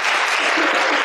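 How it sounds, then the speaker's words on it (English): Applause at a memorial thanksgiving service, a short, dense burst of clapping from a gathered crowd, loud and close. "And it says here, pause for applause."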